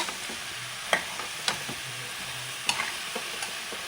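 Sweet pumpkin palya gets stirred in a sizzling pan, with a soft frying hiss beneath several sharp, irregular scrapes and taps of the spoon against the metal, close up and with no talking.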